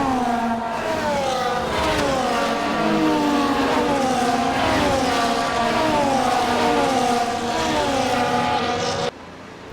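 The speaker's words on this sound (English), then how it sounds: "As the cars make their way back to the starting grid to form up and get ready for lights out" Several F1 cars in F1 24 rolling to the starting grid, their engines blending into layered, wavering whines that rise and fall steadily, loud and close, until cutting off abruptly near the end.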